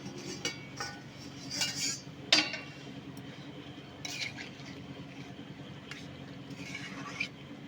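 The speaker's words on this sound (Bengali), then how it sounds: "এবার ঢাকা দিয়ে দেব নাড়াচাড়া করে ঢাকা দিয়ে দেব" Utensil stirring and lid clinks on a pot of rohu fish curry with vegetables, faint scattered metallic taps and scrapes against a quiet kitchen background.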